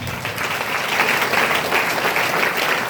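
A church congregation at a spiritual retreat applauds, a steady, loud round of clapping from many hands that continues evenly throughout.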